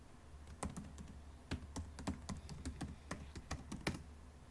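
A password being typed on a computer keyboard: a quick, irregular run of soft, close key clicks, heard alone without talk.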